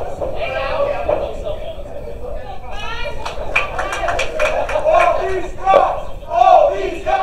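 A wrestling crowd at a live show chanting in rhythmic bursts, swelling and fading over several seconds, with an announcer talking over the chants at moments.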